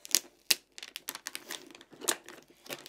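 A sticker is peeled off with a scraper in a quiet room, making close crinkly tearing and scratching bursts in an uneven run of short strokes with small pauses between them.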